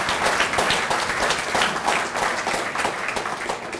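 Sustained audience applause at a UK event during an official visit by the Chief Minister of Andhra Pradesh, dense steady clapping from a large crowd holding at an even level throughout.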